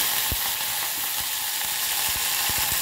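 Curry leaves fry in hot oil for upma, a steady crackling sizzle close by, broken by several soft spatter pops and stirring taps.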